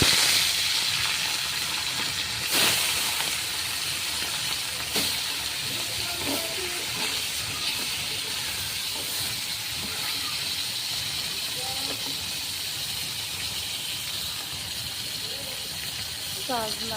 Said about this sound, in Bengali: আমি লঙ্কার গুঁড়ো, লবণ, হলুদ মাখিয়ে এবার ভেজে নেব